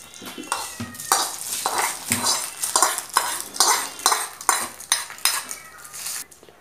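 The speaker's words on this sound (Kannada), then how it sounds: "ಇತ್ತೆ ಒಗ್ಗರಣೆ ನೆಕ್ ಪಾಡ್ಗ" Spices for a tempering in a pan being stirred, a run of rhythmic metallic scrapes and clinks of a spoon against the pan, close and fairly loud with no voices.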